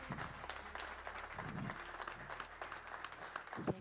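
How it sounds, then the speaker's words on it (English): A conference audience applauds a guest taking the stage, a faint, distant wash of steady clapping that lasts throughout. "So a round of applause."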